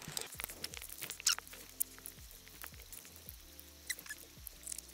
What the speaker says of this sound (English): I have no idea what I'm going to do about this rain, because it's getting heavier.